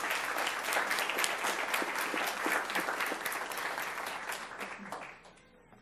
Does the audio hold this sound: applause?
yes